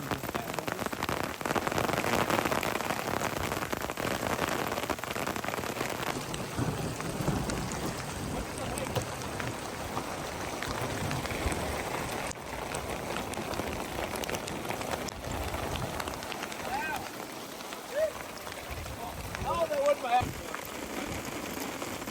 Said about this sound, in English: Lashing rain. I mean, it's coming down.